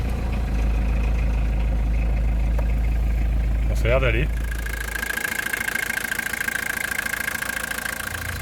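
A cold van engine idles steadily and close by, checked for knocking after overheating. Someone speaks briefly in French over the low rumble, then the engine tone shifts to a smoother, higher hum.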